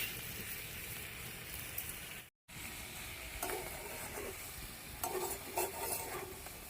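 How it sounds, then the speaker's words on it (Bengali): Cauliflower stalk curry is stirred slowly in a pan under a soft, steady sizzle, with gentle scraping strokes growing busier toward the end after a brief break. No voices. "আস্তে আস্তে নেড়ে নেড়ে তৈরি হয়ে যাবে"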